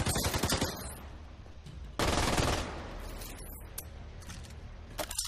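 Gunfire in The Division 2 on PS4 Pro: dense automatic bursts and rattling shots, loud and close at first, then a sharp volley and scattered distant rounds.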